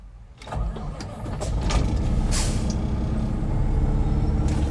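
A classic black Peterbilt 389 truck, cold after sitting, cranks and fires up, its engine building into a loud, rumbling idle close by, with a few clanks and a hiss of air.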